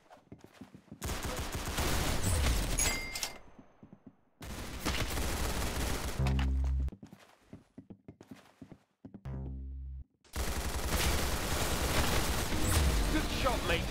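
Gunfire in the video game Arsenal comes in several dense, loud bursts of rapid shots, broken by short pauses, with speech heard between the volleys.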